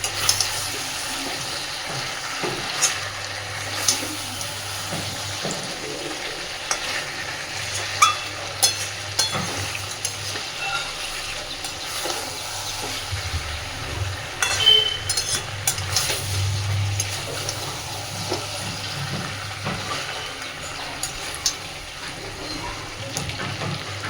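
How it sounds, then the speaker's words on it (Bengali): Bhetki fish bones being stirred with spices and potatoes in a pan, a steady sizzle of frying with scraping stir strokes and soft clinks running throughout, fairly close and continuous. "কাঁটাটা দেওয়ার পরে মিনিট 2 মিশিয়ে একটু ভালোভাবে নাড়াচাড়া করে নেব"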